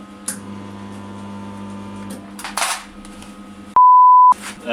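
A budget dent puller spot welder from Temu fires with a single loud, steady electronic beep lasting about half a second, set against a constant background hum and a few clicks just before and after it.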